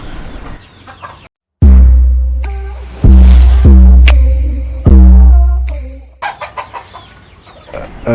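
Chickens clucking close by on a farm in loud, repeated bursts, with higher peeps from injured chicks scattered between the calls and a brief silent gap early on.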